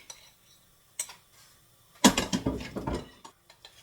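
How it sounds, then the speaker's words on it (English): A spoon stirs protein pancake batter in a bowl, giving a few faint clinks early on, then a burst of close, scraping and tapping strokes against the bowl that fade over a couple of seconds, with no talking. "I'm just going to stir it until I get the consistency that I want"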